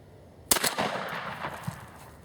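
A used Remington 1100 semi-automatic shotgun fires a single loud outdoor shot, a sharp blast followed by a long rolling echo that fades across open ground.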